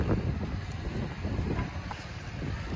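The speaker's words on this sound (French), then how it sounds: "vous m'excuserez pour le vent" Wind blows hard across the microphone outdoors, producing a continuous low buffeting rumble with no voice.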